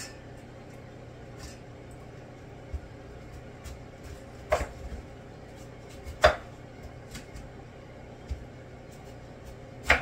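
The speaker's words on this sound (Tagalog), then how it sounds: "Hindi ko na po yan hiwain ng maliit. 4 na slice lang po ng ganyan yan." Knife cutting vegetables into large slices for bulalo, a Filipino beef soup, with a few sharp separate chops over a quiet kitchen hum.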